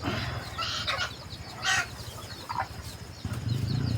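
A small fighting rooster calls close by in short, uneven bursts, with a brief hoarse crow standing out over low farmyard background noise.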